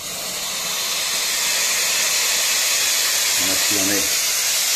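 A dry steam cleaner used for treating bedbugs releases a loud, continuous broadband hiss that grows slightly stronger, with a brief spoken phrase near the end over the steam.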